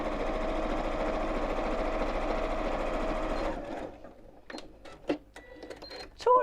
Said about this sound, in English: so I'm just going to sew it on the machine.